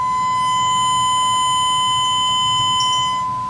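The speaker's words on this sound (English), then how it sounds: "listen to what happens to the sound as you see the sine wave beginning to clip" A loud, steady sine-wave test tone driven into clipping holds without a break, harsh and buzzy with a stack of bright distortion overtones, over a low rumbling hum.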